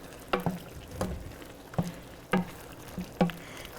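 A spoon stirs mushroom and tomato pasta sauce in a pan, giving five or six soft, wet scrapes and taps at uneven intervals over a faint sizzle, quiet and close.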